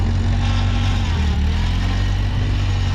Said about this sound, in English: Plus, Shane really wanted to run the skid steer.